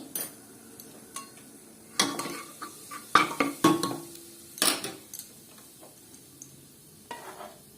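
Soft sizzling of red chili powder and spices frying in oil in a pan, with scattered clinks and scrapes of a utensil stirring against metal.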